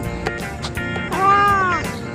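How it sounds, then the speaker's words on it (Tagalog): A cat gives a single drawn-out meow near the middle, set against background clatter and ambient noise, with no speech over it. "Sige na, mag-meow-meow ka."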